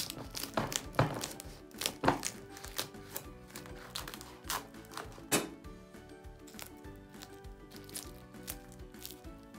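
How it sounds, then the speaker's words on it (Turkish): Knife cutting through baked dry yufka börek, a run of crisp crunchy chops and thunks at close range, louder at the start and then continuing more sparsely, with faint background music. "Onların üzerinden geçerek artık böreğimi tam olarak dilimliyorum."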